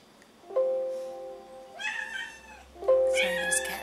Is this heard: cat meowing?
yes